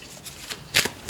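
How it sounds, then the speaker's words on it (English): A deck of oracle cards is shuffled by hand in a few quick riffling bursts, close and crisp, with no talking. "this oracle that I'm shuffling now"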